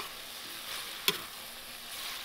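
Capsicum frying in a pan with Kashmiri chili powder being stirred in: a steady, moderately loud sizzle with a single sharp utensil tap near the middle.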